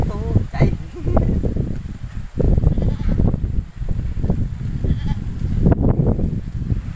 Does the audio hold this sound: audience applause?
no